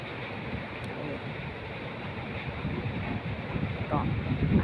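Storm wind gusting over the sea off Phuket, a dense, continuous roar with wave wash that grows slightly louder toward the end, with faint voices in the background.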